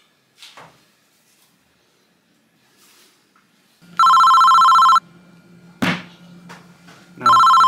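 A telephone rings twice in loud, sustained electronic bursts about two seconds apart, with quiet clatter and a brief voice in between in a hushed indoor room.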